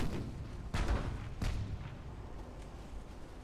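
Naval guns fire in the warship battle game Ultimate Admiral: Dreadnoughts, two heavy booming shots about a second apart followed by fainter distant rumbles, with no speech.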